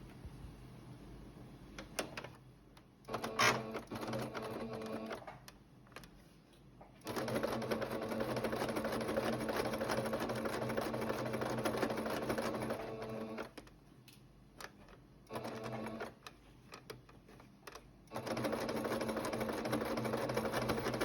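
Sewing machine running stitches on a summer fabric crossbody bag with a zipper, in several long, rapid buzzing bursts separated by short quiet pauses and handling clicks.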